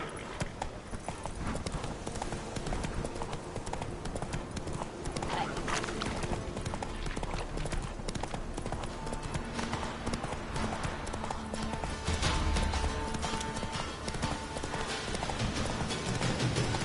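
Hooves of a galloping horse in The Witcher 3 drum in a fast, continuous rhythm, loud and near, blended with ambient game sound and an occasional whinny.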